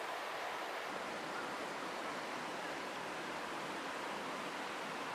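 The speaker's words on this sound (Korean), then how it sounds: "계곡 물소리가 자꾸만 발길을 끌어당깁니다" A mountain valley stream rushes steadily, its broad, even wash of flowing water unbroken and fairly close, with no voices or other sounds.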